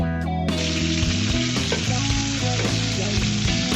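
Fish frying in a pan for a home fish dish gives a loud, dense, steady sizzle throughout, close and unbroken, with no talking.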